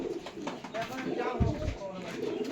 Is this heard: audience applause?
no